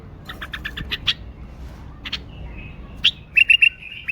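A caged bulbul sings close by in short bright bursts: a quick run of chirps, a pause, a few more notes, then a rapid series of clear whistled phrases, with no voices.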